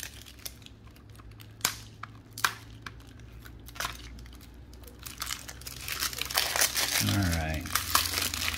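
Plastic wrapping torn and crinkled off a rap CD jewel case, sharp crackles and rustling bursts building toward a dense crumpling finish, with a brief spoken remark.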